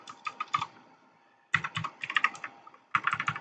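Computer keyboard typing while writing code, close and crisp: three rapid bursts of clattering keystrokes separated by brief pauses, with no voices.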